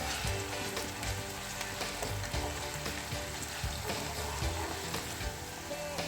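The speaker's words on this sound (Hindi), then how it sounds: "लहसुन को चंद सेकंड के लिए हमने भूना है प्याज के साथ।" Garlic and onion fry together in a pan, giving a close, continuous sizzle with crackling pops and stirring scrapes throughout, and no voices.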